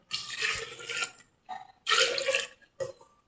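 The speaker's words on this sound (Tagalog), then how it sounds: "Una muna natin ilagay yung tubig." Water poured into a cooking pot in bursts: three separate splashy pours with short silences between, the second pour longest and loudest, heard alone without talk.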